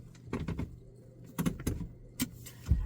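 Several crisp mechanical clicks from the new gear shifter inside a 2025 Mazda CX-50 Hybrid, coming in small clusters of two or three, close up and fairly quiet against a faint cabin hush.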